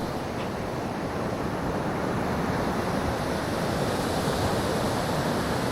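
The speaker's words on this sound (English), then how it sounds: "So just taking a quick look at the beach." Ocean surf rolls steadily onto a windy beach at Tully in tropical Queensland, Australia, a loud, continuous wash of breaking waves mixed with wind buffeting the microphone, with no voices.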